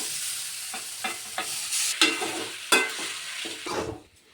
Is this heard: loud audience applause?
no